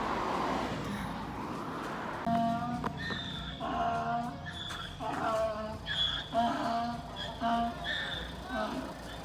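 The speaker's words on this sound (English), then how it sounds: "That sounds like one unhappy donkey." A donkey brays repeatedly at a distance along the Camino, its harsh rising-and-falling calls coming in rhythmic bursts outdoors, with faint background noise.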